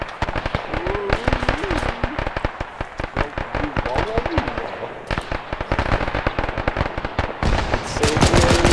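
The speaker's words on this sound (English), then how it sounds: "Don't blow up the tank. Too late." Tank blowing up in a World War 2 online video game, a booming blast buried in dense, rapid crackling gunfire and explosions, with players talking loudly over the constant battle noise.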